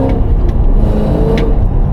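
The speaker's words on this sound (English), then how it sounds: "Little heel toe action for you." An 800 hp Cadillac CT5-V Blackwing engine roars loudly and steadily up close, with brief revving swells during a heel-toe downshift.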